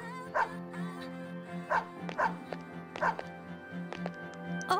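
Koromaru, a dog in the video game Persona 3 FES, gives a handful of short bow-wow barks and yips spaced over a few seconds, set against a steady background music tone.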